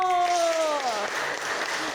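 Junior high students in a Makassar classroom clap together in a dense, steady patter; a brief tonal voice-like sound fades out at the start.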